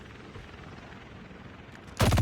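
A helicopter in the Call of Duty Mobile game: a low steady rotor drone under game background noise, then a sudden loud burst of gunfire near the end.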